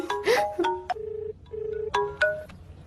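An electronic phone ringtone plays a short melodic pattern of steady tones, pauses briefly, then repeats; clear and close with faint background noise.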